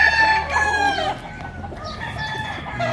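A chicken at a poultry seller's crows and clucks loudly up close, a short burst of calls followed by softer clucking.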